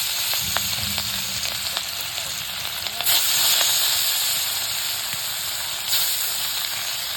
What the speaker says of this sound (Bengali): কড়াই দিয়ে দিলাম সয়াবিন তেল তেল গরম হয়ে গেছে গা মাছ দিয়ে দিই